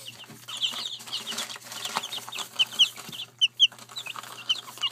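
Young chicks clucking and peeping close by, a busy stream of short high chirps with a few louder calls standing out over a faint steady hum.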